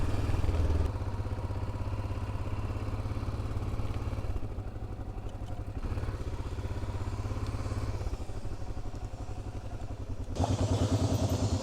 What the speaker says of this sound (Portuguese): Até o barulho da moto muda com óleo novo.